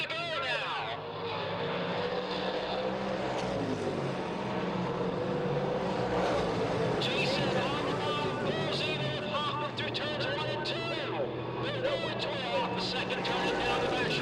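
Pro stock race cars roar around the Selinsgrove Speedway oval at night, a continuous engine drone at a steady distance, with an announcer talking over it.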